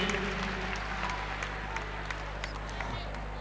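Audience applause for a teacher at an elimination-round stage event in Bamako, 2018: steady, fairly close clapping with scattered sharp claps, carried over a constant low hum and faint crowd noise.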